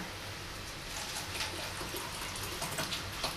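Alkaline 11.5 Kangen water is poured into a container holding water and oil, giving a steady close splashing pour that runs throughout with no talk.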